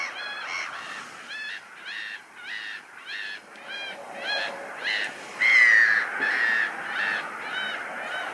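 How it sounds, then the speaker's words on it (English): Black-headed gull calling over open mudflats at a harbour, a series of repeated harsh nasal cries in quick rhythmic bursts, fairly close and clear with no talk. "That's the black-headed gull. One of its friends was calling, so it answered."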